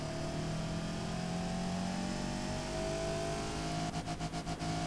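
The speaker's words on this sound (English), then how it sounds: "now it's revving fine and is producing much more power now as compared to before" Car engine in the Automation video game, revving with a steady, rising whine, close and even in level, with a few quick pulses at the end and no talking.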